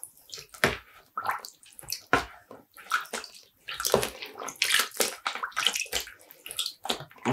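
Skeins of yarn pushed down into a tub of water to soak before dyeing, giving a run of close wet sloshes, squelches and drips that come in uneven bursts, with no talking.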